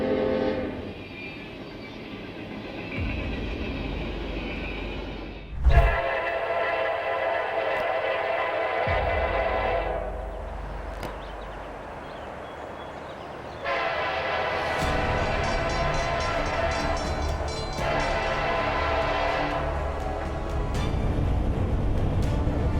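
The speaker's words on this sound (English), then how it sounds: "As the train came speeding toward them" A train speeds along the tracks with loud, close horn blasts sounding in several long, sustained bursts over a steady rumble of rolling wheels.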